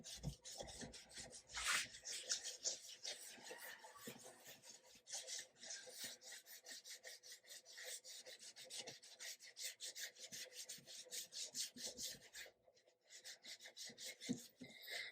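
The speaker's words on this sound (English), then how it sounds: "Maybe a little bit of really fine grit sandpaper" Fine-grit sandpaper rubbing steadily over shellac finish on a 1940s Harmony archtop guitar, a continuous close raspy scratching with brief pauses.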